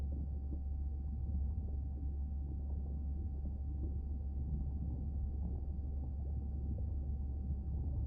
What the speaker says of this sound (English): Andre, who is messing with my whales?